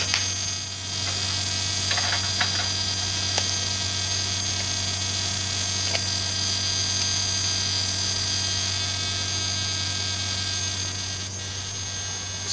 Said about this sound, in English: Motor's still running.